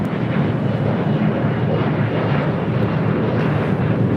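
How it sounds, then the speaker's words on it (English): The engines of a Cathay Pacific Boeing 777 taxiing at LAX give a loud, steady broadband roar with a low rumble, continuous throughout, with no talk. "the Cathay Pacific 777. Now making that left-hand turn onto Lima"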